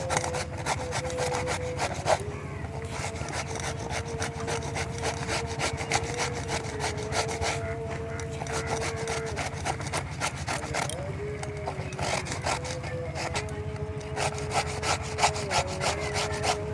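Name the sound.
grating pumpkin with a grater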